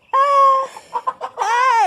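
Chickens awaiting slaughter in Nigeria on Christmas Eve, a loud close hen call, then a few short clucks and a rising squawk.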